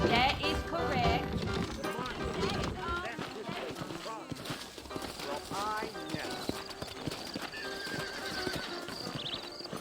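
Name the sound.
horses trotting, from the video game Red Dead Redemption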